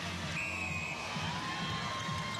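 Large crowd at a 2012 ANZ Championship netball preliminary final between the Magic and Mystics, a steady roar of cheering and shouting filling the arena, with a faint whistle-like tone drifting above the continuous din.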